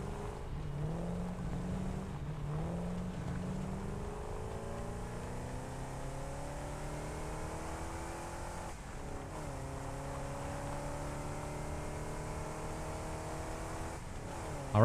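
A vehicle in the video game Satisfactory drives along with a smooth engine tone that rises and falls as it accelerates and shifts, heard alone at a moderate, even level.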